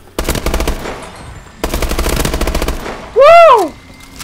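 Automatic gunfire from a gun in the video game Advanced Warfare rips out in two loud rapid bursts, followed by a rising and falling whooshing electronic effect.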